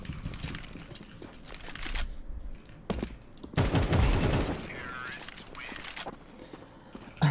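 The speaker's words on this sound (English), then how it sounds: "AK sounds like a toy" AK rifle in Counter-Strike 2 firing quick bursts of shots at mid distance amid other game noise and footsteps, with a louder sustained burst in the middle; a voice talks intermittently.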